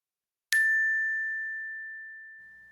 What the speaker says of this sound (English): go ahead and hit that notification bell